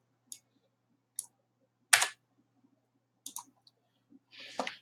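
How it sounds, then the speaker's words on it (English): Sharp isolated taps of the delete key on a computer keyboard, about six separate clicks spaced irregularly in a quiet room, the last one a longer rattling press. "I'm just hitting the delete key on the keyboard."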